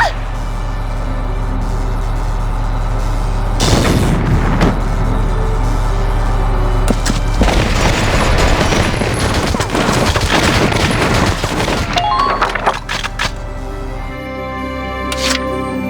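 Gunfire and explosions in the Valkyria Chronicles video game, loud sustained bursts of rapid shots with booming blasts layered over a constant battle rumble, while character voices shout.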